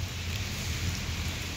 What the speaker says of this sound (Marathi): असा पाऊस चालू झालाय ना, मी तुम्हाला दाखवते. हे बघा पाऊस, कस काय पाऊस चाललाय.